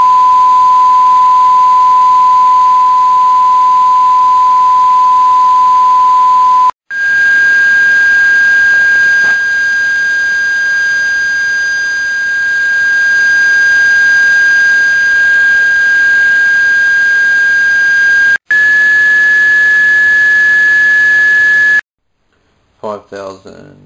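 Steady pure sine tone near 1006 Hz driving a steel plate scattered with couscous, a loud continuous hum that holds unbroken for several seconds, then steps up slightly in pitch after two brief gaps before cutting out near the end.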